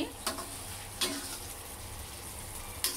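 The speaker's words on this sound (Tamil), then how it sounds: "மீன் பார்த்தீங்கன்னா உடையாது. நல்லா பொரிச்சாச்சு." Salmon pieces fry steadily in hot oil, giving a continuous soft sizzle with a few sharper spits and crackles, fairly quiet and with no talking.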